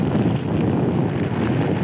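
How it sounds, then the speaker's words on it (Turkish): Loud, constant buffeting wind roar against a microphone while riding a Honda Forza 250 scooter at highway speed, low and blustery throughout. "Bayağı sallıyor beni rüzgar şu an çünkü"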